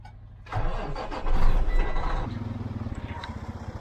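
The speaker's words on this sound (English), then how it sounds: "I got both the trucks started." Farm truck engine cranking and catching, then settling into a rough rhythmic idle with a steady chugging pulse, close and loud.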